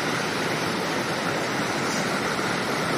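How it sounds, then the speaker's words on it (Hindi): The Dudhiware waterfall near Pune, among rice fields, sends out a loud, constant broadband rush of falling and flowing water, close and unbroken from start to finish. "सो ये वाटरफॉल का पानी जो है इस साइड से यहाँ से आ रहा है"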